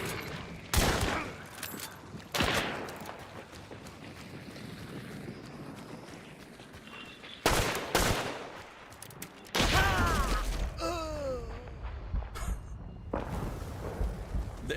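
Gunshots in an online shooter game, a sudden headshot kill, heard as several loud sharp bursts spread across the clip with game ambience and quieter sound effects between them.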